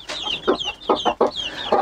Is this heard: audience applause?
no